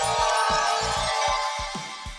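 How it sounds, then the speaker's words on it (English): Custom Twitch raid alert sound effect: a bright, buzzy synthetic tone held over a steady pulsing low thump repeating about every quarter second, loud and close, with nothing else around it. "I'd like to take a moment to bring your attention to the raid sound effect that I designed."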